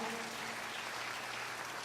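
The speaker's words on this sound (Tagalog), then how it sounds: "Ato daw tagaan og kusog nga palakpak ang atong buhi nga Dios mga igsoon." Church congregation at a worship service clapping together, a steady, dense patter of applause at moderate distance that holds evenly for the whole stretch.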